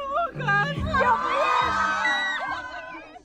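Fans at a Taylor Swift event shout and scream all around, high excited voices overlapping in a close, continuous clamor.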